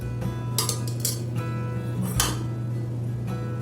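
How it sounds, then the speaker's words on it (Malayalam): Raw jackfruit masala curry being moved into a metal pressure cooker, with repeated close clinks and scrapes of a spoon against the pot over a low steady background hum. "ഞാനിത് പ്രഷർ കുക്കറിലേക്ക് മാറ്റുവാണേ."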